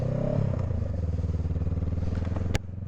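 A motorcycle on a cold winter road runs close, its engine revving briefly at the start, then settling into a steady throbbing drone, with a sharp click near the end before the sound drops slightly.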